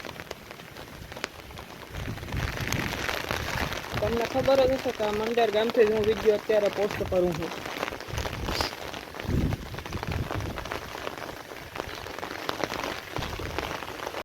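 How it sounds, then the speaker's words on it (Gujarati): Steady rain patters on surfaces throughout as a dense hiss in a village in Mander, Porbandar, Gujarat, while someone talks over it in the middle. "વરસાદ જોઈ શકો તમે"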